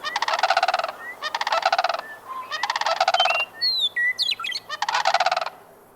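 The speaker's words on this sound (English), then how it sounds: "the distant sandhill cranes bugle like ancient musicians throbbing against tender green grasses" Sandhill cranes bugle in loud, rolling calls that come in repeated rattling bursts, with higher whistled notes in between, clear against a quiet background.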